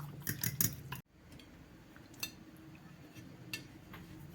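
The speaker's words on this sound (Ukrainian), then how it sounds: "І виделкою розбиваю яйця." Light metallic clinks of a fork beating eggs in a bowl, a quick cluster at first, then sparse taps over quiet kitchen background.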